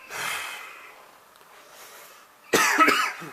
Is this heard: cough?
yes